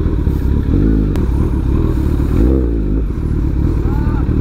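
A Kawasaki ZX-14R motorcycle rides through traffic with a steady, close engine drone, rising briefly in pitch midway, while a voice talks over it.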